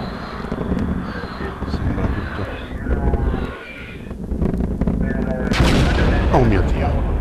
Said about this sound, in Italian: Oh mio Dio, è esploso